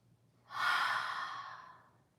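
A single deep, drawn-out breath during a vinyasa yoga flow, rising quickly and tapering off over about two seconds, close and soft, heard alone without speech.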